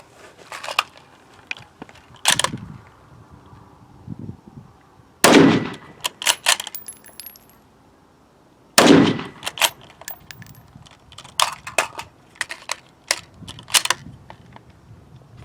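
Mossberg MVP Predator bolt-action rifle fired on an outdoor firing line: two loud, sharp reports several seconds apart, each followed by rattling and clicking of the bolt being cycled and other handling noises.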